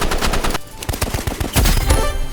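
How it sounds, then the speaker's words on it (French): Assault rifle fire in the online shooter Rivals: loud, rapid bursts of shots crackling close up, with a short lull before a second heavy burst, and no voices over it. "il a pris le fusil d'assaut comme moi"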